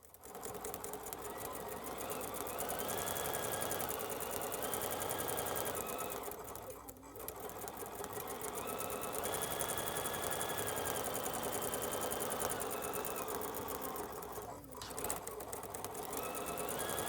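A sewing machine runs a satin stitch with metallic thread in long steady bursts of rapid whirring, pausing briefly twice, loud and close with no voices.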